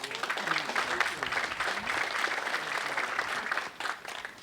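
An outdoor crowd at the grand opening of an apartment complex claps steadily, a dense patter of hands that holds throughout and dips briefly near the end, with some voices mixed in.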